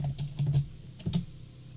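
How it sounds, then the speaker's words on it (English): Keys clatter on a computer keyboard in two short bursts of quick taps while a command is entered in AutoCAD, close and fairly quiet with no talk. "To control snapping, I have to type in the osnap command."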